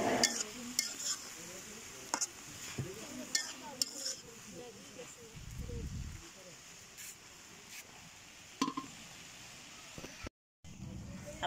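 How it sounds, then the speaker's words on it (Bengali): Fresh gourd greens cook in a pot on a wood-fired stove, with intermittent stirring scrapes, light clinks and a soft sizzle, while voices talk nearby and a low rumble swells briefly partway through. "এই যে তাজা তাজা শাক লার্কি চুলে রান্না"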